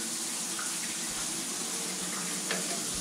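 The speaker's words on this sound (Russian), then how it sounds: "Встали под душ. Отрегулировали температуру. Отрегулировали напор воды." Water streams steadily from a Grohe Euphoria SmartControl shower system in a continuous, even hiss, close by and unbroken throughout, with no voices over it.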